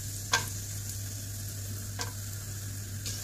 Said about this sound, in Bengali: কাজু বাদামগুলোকেও আমি এই তেলের মধ্যে ভালোভাবে লাল লাল করে ভেজে নেব।